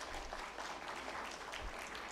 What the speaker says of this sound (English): Please can I have a round of applause and welcome him on the stage.